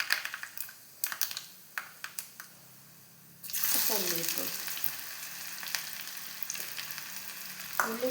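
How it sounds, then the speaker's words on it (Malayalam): Mustard seeds in hot oil for a jackfruit erissery: a few sharp scattered pops at first, then a loud sudden sizzle that keeps crackling steadily, with occasional louder spits. "കുറച്ച് കടുക് ഇട്ട് കൊടുത്തിട്ടുണ്ട്"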